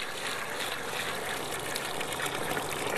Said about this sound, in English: Let's dump some water in.